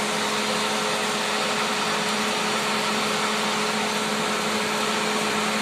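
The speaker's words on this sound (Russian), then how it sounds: "Вот кнопочку включаем, начинает пылесос" A vacuum cleaner runs as an air blower for a forge while a Yakut knife blade is being forged, giving a steady, loud, even whooshing roar with a constant motor hum throughout and no talk.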